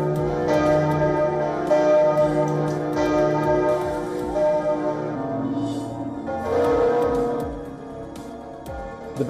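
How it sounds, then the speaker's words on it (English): Church bells of Notre-Dame cathedral in Paris peal together, several bells overlapping in a rich, sustained clangour with repeated strikes and long ringing decay throughout, loud and unaccompanied by speech. "The bells of Notre Dame in Paris ring out together for the very first time since a 2019 fire"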